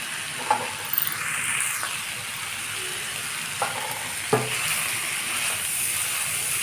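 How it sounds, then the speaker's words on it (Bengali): Chow mein noodles with a packet spice mix sizzling steadily in a pan, with a few sharp scrapes and clinks of stirring utensils over the constant frying hiss. "দিয়ে এটা ভালোভাবে মিশিয়ে নেব।"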